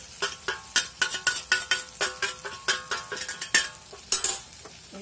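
A utensil stirs chicken masala with coriander powder and chili in a pan, making quick rhythmic scraping and clinking strokes, close and steady, with no voices.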